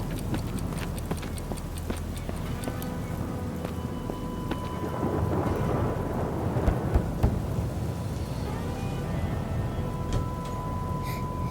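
Heavy rain pours steadily as a dense, hissing wash, with a low rumble of thunder rolling in the middle and scattered drips and clicks on nearby surfaces, close and continuous with no voices.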